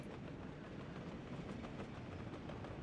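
A short freight train rolls steadily through a Soviet-era industrial setting in the video game Workers & Resources: Soviet Republic, its continuous wheel rumble and faint clickety-clack holding an even level throughout, with no voices.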